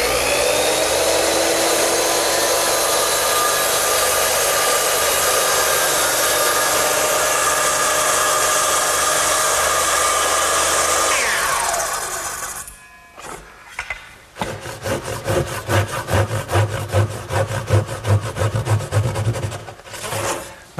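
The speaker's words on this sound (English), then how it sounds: "to make the vertical or the rip cuts, I use the same gauge block, straight edge, and my circular saw" A circular saw rips along wood against a straight edge, whining loud and steady for about twelve seconds before stopping, followed by a stretch of rhythmic, uneven scraping.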